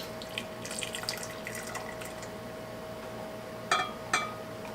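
Liquid poured into a glass measuring cup, a quiet steady trickle with a faint background hum, followed by two sharp clinks of glass near the end.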